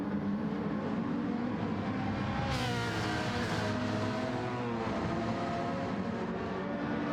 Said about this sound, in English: As we hear the wonderful engine of the Elantra.